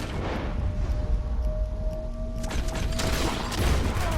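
Rapid gunfire from a Red Dead Redemption 2 shootout crackles steadily throughout, dense and continuous, with a low rumbling background and faint tonal game sounds mixed in.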